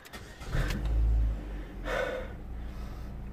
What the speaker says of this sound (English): It's gonna start the engine.